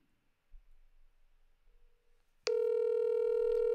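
After a near-silent moment, a steady electronic telephone ringback tone starts abruptly and holds loud and unbroken to the end.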